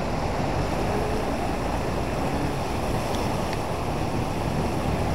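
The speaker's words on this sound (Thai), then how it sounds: "น้ำไหลเชี่ยวมากนะครับตอนนี้นะครับ" Continuous loud roar of fast-moving floodwater flowing across a road in light rain, a dense steady rush with wind buffeting the microphone throughout.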